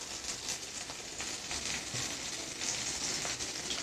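Masala pasta ingredients fry and get stirred in a pan, a steady close hiss of sizzling with faint scraping pulses, quiet and continuous, with no voices.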